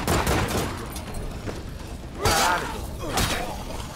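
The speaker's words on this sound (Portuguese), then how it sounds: "Regaça aí, 40 balas pra cima pra destruir isso aí." Bursts of rapid gunfire from the video game State of Decay 2 crackle in two loud volleys, with mechanical clatter and debris sounds between them.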